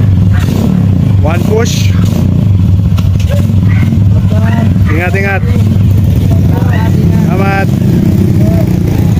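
A Kymco K Pipe scrambler motorcycle engine idles in a steady, loud rumble close by, while people talk briefly over it.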